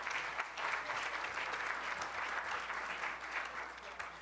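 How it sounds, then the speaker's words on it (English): At an alumni lecture event, an audience fills the room with continuous, evenly sustained applause of many hands, moderately loud, with a few faint voices underneath. "Please give yourselves a round of applause."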